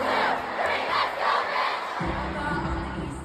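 A concert crowd chanting and shouting together during a song, a loud, dense mass of voices filling a large venue, swelling and dipping in waves over a few seconds.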